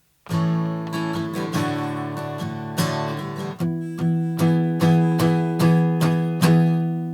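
An acoustic guitar strums a sequence of chords, first held ringing, then in steady rhythmic strums, close and clear with no voices.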